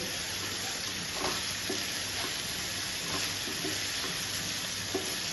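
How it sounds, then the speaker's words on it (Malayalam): Green chillies, ginger and garlic sautéed in a pan for chicken chukka: an even, dense sizzle running throughout, dotted with faint spatula scrapes and pops, close by and without speech. "നല്ലോണം ഒന്ന് വഴറ്റി കൊടുക്കാം"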